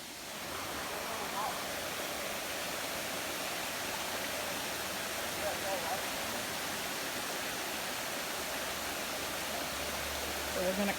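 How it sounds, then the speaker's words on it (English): A waterfall at Ferne Clyffe State Park pours off where a creek crosses the road, a steady broadband rush of falling water that fills the whole stretch evenly from start to finish. "But this is the actual fall dropping off."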